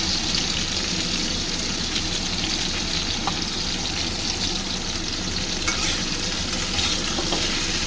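Taro pieces, lightly salted, fry in hot oil in a home kitchen, a steady dense sizzle and crackle running unbroken throughout, with no one speaking.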